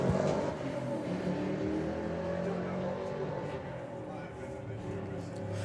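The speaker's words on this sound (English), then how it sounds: "I can't work out which one of those is making the V8 noise" Drag racing cars, a Nova and a Beetle, with a V8 engine rumbling steadily and loudly throughout, a sustained low roar at a drag strip that eases slightly toward the end.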